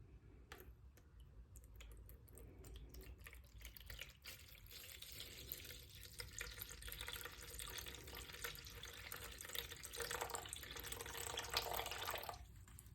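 Water trickles and splashes softly as it is poured into a container sitting on a kitchen scale, a faint, continuous pour heard alone in a quiet room.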